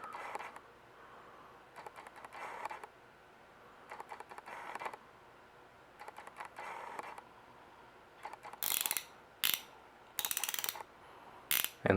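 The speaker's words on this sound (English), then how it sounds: "It's 72 teeth in each ratchet, so it's a pretty small arc for how far you have to turn to get your ratcheting" A Craftsman Max Axess 72-tooth ratchet clicks in rapid fine-toothed bursts, each a quick buzzing run of tiny clicks, close up, with the final few bursts sharper and louder.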